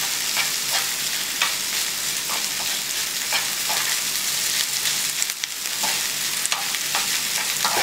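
A garlic and ginger mixture cooks down to dryness in a pan, giving a loud, dense, hissing sizzle with intermittent stirring strokes throughout.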